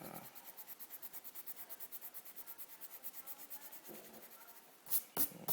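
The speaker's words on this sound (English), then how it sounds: "I'm going to take my eraser and I'm just going to erase the pencil lines that we made underneath it" An eraser rubs out pencil lines on paper while a Celtic knot drawing is finished, making quiet, rapid, even back-and-forth scrubbing strokes, followed by a few louder brushing or handling sounds at the end.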